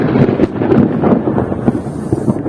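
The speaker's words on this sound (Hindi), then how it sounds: "इतना जोर से बिजली कड़क रहा है ना" Loud thunder rolls through a forest during a heavy rainstorm, a deep rumbling boom with gusty wind buffeting close to the microphone throughout.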